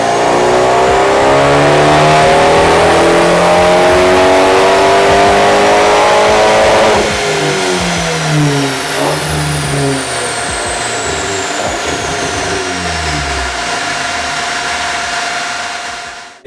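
A turbocharged Abarth 124 with a big turbo roars at full throttle through a dyno pull, its engine note climbing steadily and loudly for about seven seconds, then dropping off into a lower, uneven idle-like rumble with a high whine fading.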